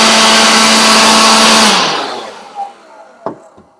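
A small micro-USB-rechargeable blower whirs loudly at an arc lighter for under two seconds, then winds down and fades, leaving a few faint clicks and taps in near silence.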